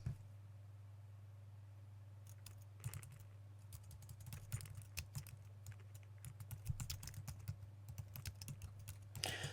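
Keys clatter faintly on a computer keyboard in irregular bursts of typing over a steady low electrical hum, with no voices.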